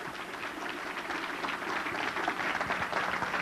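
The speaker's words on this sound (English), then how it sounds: "Would you give him another round of applause, if you please?" An audience at a motivational talk claps in a steady, even round of applause that carries on throughout, moderately loud and dense, with no voices over it.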